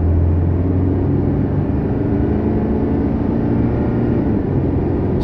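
A 2016 Chevrolet Colorado diesel pickup truck accelerating at full throttle from about 35 mph, with a loud, steady engine drone and road rumble heard from inside the cab.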